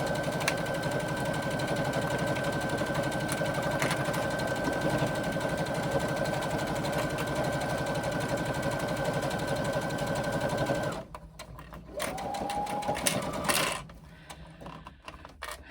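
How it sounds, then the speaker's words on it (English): Sewing machine running a 1/8 inch basting seam around the edge of bag lining pieces, a steady continuous motor hum and stitching for about eleven seconds, then stopping, with a short burst of running afterward. "stitching them together ready for when we assemble. So again, just a 1/8 inch basting seam around the edge."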